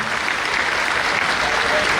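Audience applause at a village gathering, a steady, loud wash of many hands clapping that fills the whole short stretch without pause.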